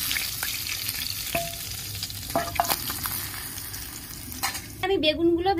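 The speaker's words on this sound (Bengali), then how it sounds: "আমি বেগুনগুলো ভেজে নিচ্ছি।" Eggplant pieces fry in a pan with a steady, close sizzle, punctuated by a few sharp taps and clatters as the pieces are moved. A voice starts speaking near the end.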